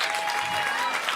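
A short burst of audience applause at a stand-up comedy show, a dense, even patter of many hands clapping.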